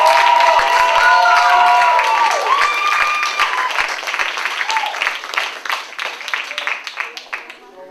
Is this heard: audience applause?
yes